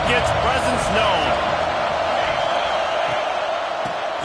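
A football stadium crowd roars steadily and loudly under a commentator's voice, a constant dense wall of cheering with occasional thumps and whoops.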